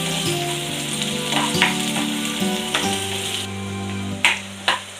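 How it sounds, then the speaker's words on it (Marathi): Onion fries in hot oil in a pan with a continuous close sizzle, broken by a few sharp stirring clicks and scrapes toward the end. "तेल गरम झालेलं आहे। फोडणीचा थोडासा कांदा घालते।"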